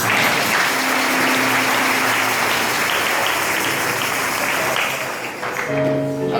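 A church congregation in Libreville claps loudly and continuously in a dense, sustained wave of applause, fading slightly near the end as a faint tone emerges.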